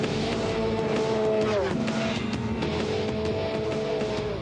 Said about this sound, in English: uses the extra power he's been saving to roar past Carl